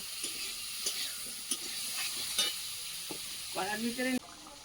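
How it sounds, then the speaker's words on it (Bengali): Potatoes with turmeric powder sizzle and fry in a pan, with soft stirring scrapes and steady hissing at a low level, ending in a brief tonal squeal before cutting off. "হলুদ গুঁড়ো আলুটা আগে একটু ভালো করে ভেজে নেব"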